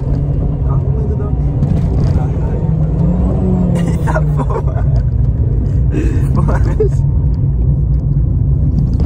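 A car in poor condition rumbles steadily from inside the cabin while driving, a loud continuous low drone throughout, with people talking over it.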